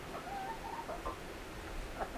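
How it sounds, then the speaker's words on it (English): A few soft, faint clucks come from a rooster wandering nearby, scattered over a quiet, hissy background. "My chickens are coming over here. I got a rooster that wants to be a movie star."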